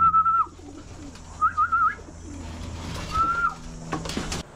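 Racing pigeons coo in short, rolling bursts, three distinct calls close by over a low background hum, with no talk.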